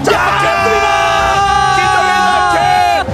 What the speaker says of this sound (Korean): 함성이 터져나오고 있어요